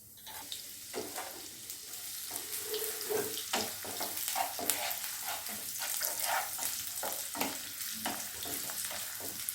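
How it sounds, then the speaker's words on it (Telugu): Onion pieces fry in hot oil in a kadai while egg fry is cooked, giving a steady close sizzle with scattered crackles and stirring clatter throughout. "ఆయిల్ హీట్ ఎక్కిన తర్వాత ఆనియన్ పీసెస్ వేసుకోవాలి."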